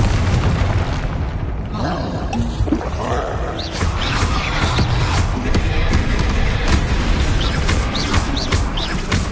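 Confringo blasting spell explosions in the Hogwarts Legacy video game, a dense, continuous roar of booming blasts and rumbling combat noise that stays loud throughout.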